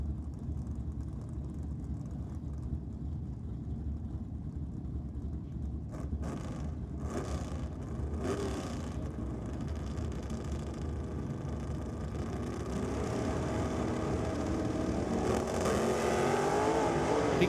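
Drag racing cars at Sydney Dragway, including a Cortina, start as a distant low rumble and then build into a louder, rising engine roar toward the end.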